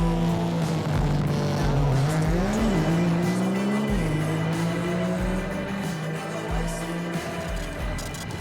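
Race car engine at full throttle, loud and close throughout, with a sustained tone that rises and dips as the car shifts and turns, plus some tire noise.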